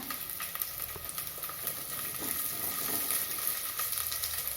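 Garlic cloves frying in a pan of oil for pepper and cumin kuzhambu, a steady soft sizzle with faint scrapes of stirring throughout, no talk.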